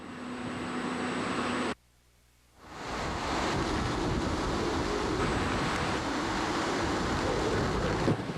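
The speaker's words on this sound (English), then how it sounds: "The water's coming in pretty quick here out ahead of the storm now" Roaring wind and surging water from Hurricane Katrina's storm surge rushing in along the Gulf coast, a loud continuous wash that drops out briefly near the start and then returns at full strength, with no voices.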